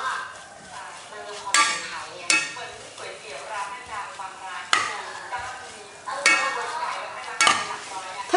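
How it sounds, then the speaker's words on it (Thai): Pork stir-fries in a pan for a pumpkin curry, a close, continuous sizzle punctuated by repeated clacks of a utensil scraping and striking the pan. "ผัดไปเรื่อยๆนะคะใจเย็นๆจนกว่าหมูจะเกือบสุกเลยนะคะ"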